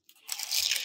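One close, crisp crunch as teeth bite into a fried egg roll or shrimp ball, a brief sharp crackle that fades into chewing, with nothing else heard.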